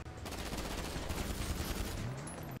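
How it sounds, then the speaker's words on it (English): Rapid automatic gunfire rattles in a GTA Online street fight, a dense, loud and continuous burst lasting a couple of seconds, with a faint rising engine whine near the end. "Who are you shooting at?"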